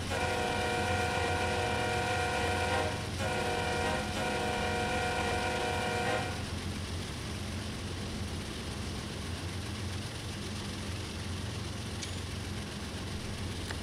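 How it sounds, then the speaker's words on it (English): A locomotive horn in Train Sim World 2 blares a loud, sustained multi-tone chord for about six seconds with two brief breaks, then cuts off, leaving a steady rumble of the train rolling along the track. "Let's give those rail fans a show. Honk my horn."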